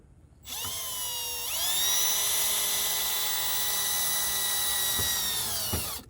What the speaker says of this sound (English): Take your drill, and then while you're holding the nut, just screw this in.